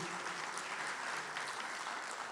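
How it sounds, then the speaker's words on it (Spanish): An audience at a university tribute event in Puerto Rico gives a warm round of applause, a continuous wash of clapping heard at a moderate distance. "Un merecido aplauso, sí."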